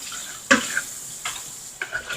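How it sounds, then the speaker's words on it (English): Crushed garlic being stirred in a hot pan while cooking stuffed peppers: three scraping strokes of the utensil spaced across the clip over a steady background sizzle. "I'm just gonna stir that a little better."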